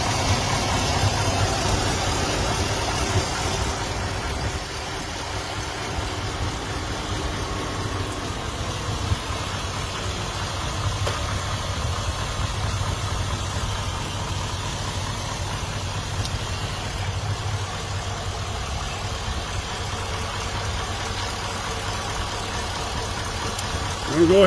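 A Chevy Silverado truck engine idles steadily for a long stretch, a low, even mechanical rumble heard from nearby with no pauses.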